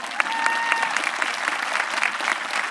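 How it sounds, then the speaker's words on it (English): Audience applause at a high school graduation ceremony, a dense steady clapping from a large crowd that continues for a few seconds. "Yeah, let's clap for them."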